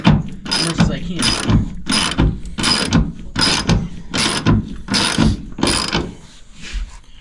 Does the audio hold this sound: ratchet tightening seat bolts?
yes